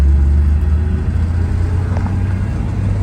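A 1969 GMC truck with a noisy 4-speed transmission drives on the road, giving a loud, steady low engine rumble and drivetrain drone from inside the cab with no speech.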